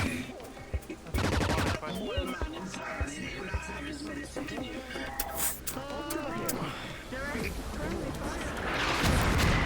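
Heavy gunfire rings out in a VRChat roleplay battle, with dense crackling volleys and sharp shots layered over background chatter and noise, building louder toward the end.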